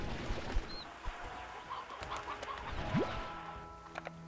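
Chickens in the video game Slime Rancher give faint, scattered clucks over a busy wash of game ambience and effects.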